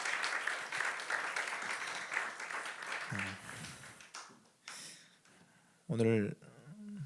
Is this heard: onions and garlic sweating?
no